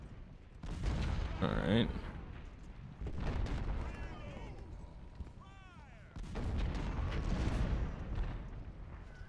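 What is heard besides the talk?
artillery and musket fire in Ultimate General: Civil War video game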